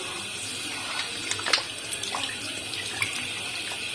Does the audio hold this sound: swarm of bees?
no